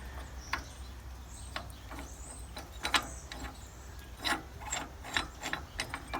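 A Ford 501 sickle bar mower's stabilizer bar is hooked up to a John Deere 3025e tractor, giving scattered light metallic clicks, taps and scrapes over a low steady hum, faint and without talking.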